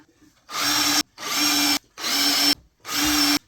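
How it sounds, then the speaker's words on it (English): A power drill drives 1 5/8 inch deck screws into a wooden hanging plant frame, four steady whirring bursts of about half a second to a second each, separated by short pauses, close and loud. "I'm going to go ahead and put 1 5/8 deck screw in each one of the holes I cut."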